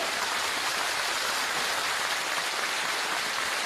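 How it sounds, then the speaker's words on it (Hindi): Dense, steady applause from a large crowd at an outdoor political rally in Nayagaon, Gwalior, in the Chambal region, sustained and loud with no talking over it. "ये चंबल की ताली सुनाओ मुझे"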